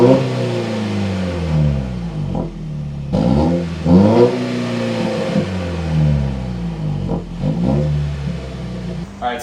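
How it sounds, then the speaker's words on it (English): A 2024 Toyota Tacoma four-cylinder engine with a MagnaFlow exhaust revs up repeatedly, each rise swelling into a deep exhaust roar before easing back, several surges in a row, close and fairly loud. "So I can hear a little bit of the exhaust."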